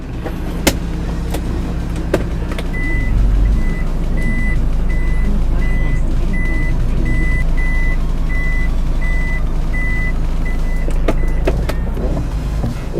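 Suzuki APV 1.6 GLX 2006 automatic van on a test drive: steady engine and road hum from inside the cabin with a repeating chime and occasional clicks, no talking.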